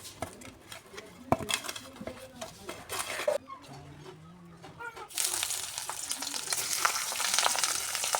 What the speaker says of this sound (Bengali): এবার মাছের মাথাগুলো ভাজবো ওই তেলে